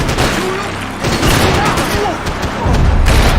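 Heavy, continuous gunfire from a Max Payne 3 firefight in a graveyard, loud and close, with overlapping shots and booms. Shouting voices cut in over the shooting.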